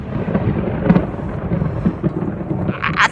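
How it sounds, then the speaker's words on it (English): Rain beginning to fall outdoors beside a charcoal chimney starter, with deep rolling thunder rumbling loud and continuous, a few sharper cracks breaking through the steady low roar. "It's starting to rain."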